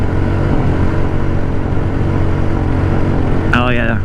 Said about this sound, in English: Let's see what happens if I just give it full throttle a little bit.